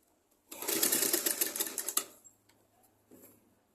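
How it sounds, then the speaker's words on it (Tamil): A sewing machine stitches a rolled blouse neck piece in a fast, rattling burst lasting about a second and a half, then winds down, with a brief faint whir returning near the end in a quiet room. "இந்த பீஸை வந்து இப்போ நம்ம உருட்டி தைச்சி வச்சுக்கிறோம்"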